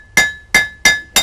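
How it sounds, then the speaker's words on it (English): Blacksmith's hammer striking hot metal over a cutoff hardy, four sharp ringing blows spaced about a third of a second apart, each with a bright metallic ring that decays quickly, close and loud with no talking. "we're going to go to the cutoff hardy. Now hopefully I'm not going to cut this all the way through."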